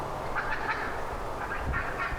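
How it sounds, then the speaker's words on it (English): Turkeys cluck and gobble next to an outdoor deck, a continuous busy flock chatter at moderate distance with no talk over it. "That clucking you hear in the background are the turkeys, which live right here next to the deck"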